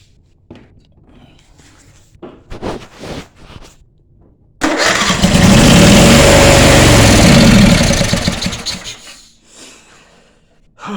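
A 22 horsepower Briggs engine cranks and catches into a loud, sustained roar for about four seconds before dying away, preceded by scattered short knocks and clatter.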